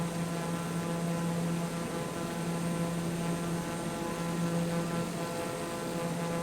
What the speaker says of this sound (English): It's a cracking little aircraft once you get used to it.